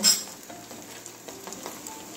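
Paratha frying in a pan: a soft, steady sizzle with a brief clink of utensil at the start, faint and close, no voices.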